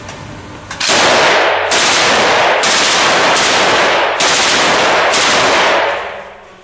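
FG42 Type 1 replica rifle firing rapid full-auto bursts, several loud, dense volleys in quick succession close to the listener, each a continuous rattling stream of shots, with no talking.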